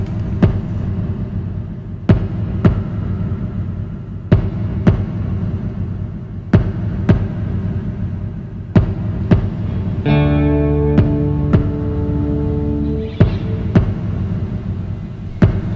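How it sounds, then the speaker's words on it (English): Electric guitar through an Electro-Harmonix Pitch Fork pitch shifter and Strymon BigSky reverb: notes ring out with heavy reverb and shifted pitch, sharp plucked attacks spaced regularly, then a sustained shimmering chord swells and fades. "I use an electroharmonics pitchfork for the pitch effect for the guitar, and Strymon Big Sky for the reverb"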